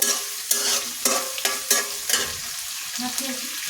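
Beef with garam masala fries in a pan, sizzling steadily while a spoon stirs it in repeated sharp scraping strokes about every half second, close and fairly quiet.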